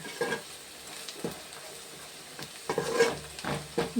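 Food stirred and frying in a pan ahead of tamarind broth, a soft steady sizzle broken by scraping spoon strokes and light clinks near the mic, with no talking.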